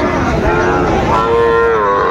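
A long, drawn-out moo comes from a Sahiwal bull calf at a Raniganj cattle market, loud and close with a wavering pitch, against faint market background noise.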